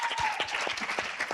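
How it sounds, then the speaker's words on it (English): Scattered applause breaks out at a Utah town hall, a brief patter of separate claps from a modest crowd, fairly faint and short. "Round of applause."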